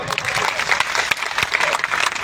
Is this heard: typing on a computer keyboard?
no